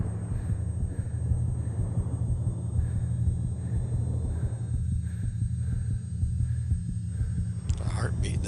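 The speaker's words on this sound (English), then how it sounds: "The heartbeat there, musically." A steady heartbeat-like throb pulses low through orchestral music, repeating at an even rhythm beneath a sustained hum, with a brighter burst of sound near the end.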